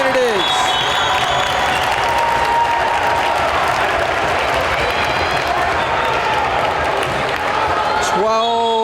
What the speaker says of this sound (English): If you just listen to how loud this crowd is